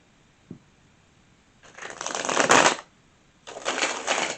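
Tarot cards being shuffled in two close, crisp riffling bursts, the first longer and building before a brief pause, then a second burst, with a small tap just before.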